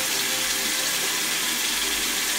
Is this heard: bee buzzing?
no